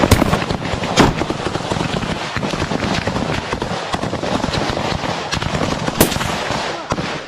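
Rapid staccato gunfire effects for a Lego war film set in the battle for Kherson, dense bursts of shots with sharp cracks near the start and around six seconds, loud and continuous throughout.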